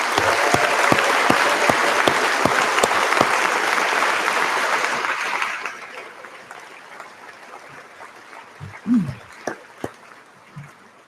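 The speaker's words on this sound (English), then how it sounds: "One more round of applause for a great class." A large convocation crowd at a university graduation ceremony applauds the graduating class, loud sustained clapping for about five seconds that then fades away, leaving scattered faint claps and a few brief voices.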